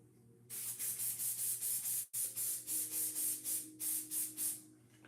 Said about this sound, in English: And this one's just a quick spray.